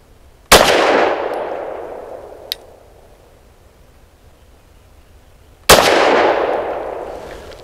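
A Lone Wolf Arms Dusk 19 pistol fires two sharp, loud shots several seconds apart, each trailing off in a long echoing decay, with a faint click between them.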